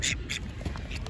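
Ducks asking for food give a couple of quick, close quacks in a brief burst.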